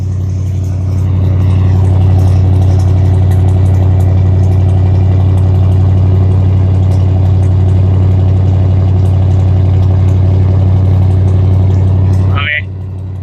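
A carbureted 1987 Ford F250 idles fast at about 1500 RPM after a cold start, a loud, deep, even drone held for several seconds before cutting off abruptly near the end.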